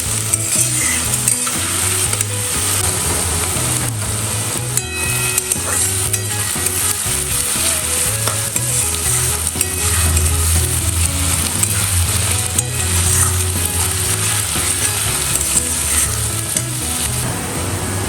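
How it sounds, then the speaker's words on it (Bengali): Chopped onion fries in a pan for egg curry, with a constant loud sizzle and frequent scraping stirs of a spatula, close and continuous, and no one talking. "পেঁয়াজটা মোটামুটি ভাজা হয়ে গেছে"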